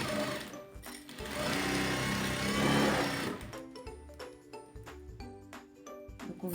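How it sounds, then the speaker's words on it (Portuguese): Sewing machine stitching a border onto a cotton dish towel, a steady whirring run for about three seconds, then short bursts of stitching broken by brief pauses, close and clear with no talk. "A gente vai passar uma costura aqui."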